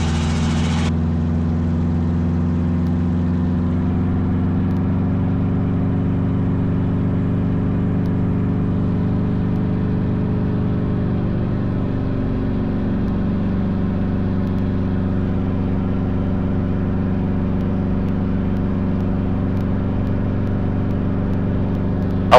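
A training helicopter's engine runs steadily with a loud, continuous drone and layered tonal hum, the pitch shifting slightly midway as the throttle is rolled up, with no other sounds over it.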